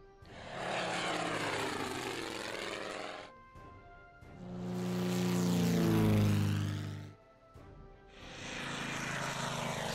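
Propeller aircraft in the video game Order of Battle: Pacific, set in the Pearl Harbor attack, make three loud passes of droning engine roar, each swelling and fading with a pitch sweep, separated by brief lulls.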